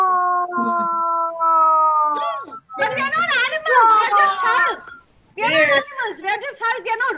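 In a theatre workshop, people groan and howl in imitation of an angry Hulk roaring, starting with a long sustained drone and then breaking into loud, wavering vocal bursts from several voices.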